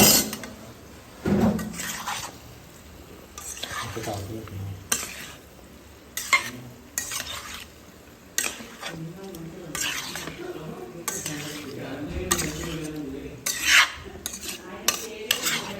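Potatoes with curry leaves are stir-fried in a pan: repeated scraping strokes of a metal spoon and clinks against the pan over a soft, steady sizzle, close and fairly loud, with a voice talking at times.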